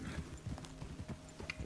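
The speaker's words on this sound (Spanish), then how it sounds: "No, yo no quería, no, caballo, ¿por qué vienes?" Horse approaching in Red Dead Redemption 2, quiet irregular clip-clop of hooves with faint rustling, soft and somewhat distant.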